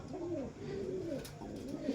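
A pigeon coos softly and close by, giving a few low, rolling murmured calls in a quiet setting.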